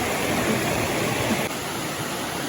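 A waterfall on a creek in a Virginia park rushes as a steady, dense roar of falling water, loud and continuous with no other sounds over it.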